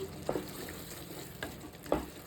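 A curry cooking in a pan sizzles softly and steadily while a spoon scrapes through it three times, faint and close.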